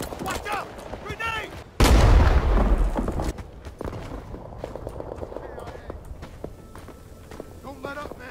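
A grenade blast bursts out loud in an FPS video game, followed by a rumbling tail and scattered gunfire, with people talking before and after it.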